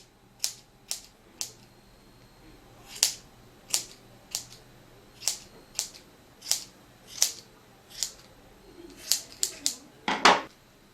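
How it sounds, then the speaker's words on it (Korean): Scissors snip a yarn pompom for a knitted newborn hat, giving a steady series of sharp, close clicks spaced about half a second to a second apart, with a quick cluster at the end. "모양을 보시면서 이렇게 가위로 동그란 모양이 되도록 가위로 잘라주세요."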